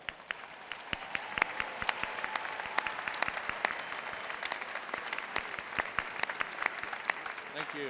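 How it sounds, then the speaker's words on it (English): A large audience at an August 2015 Texas Tech University commencement applauds the faculty with sustained, dense clapping that stays steady throughout, its sharp individual claps standing out against a continuous wash of sound. "let's give them a round of applause"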